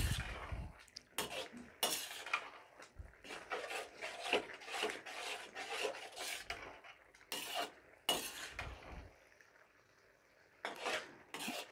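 Carrot halwa being stirred in a pan with almond and cardamom powder, giving a steady scraping and rubbing of a spoon against metal with repeated louder strokes, close and continuous, with no talking.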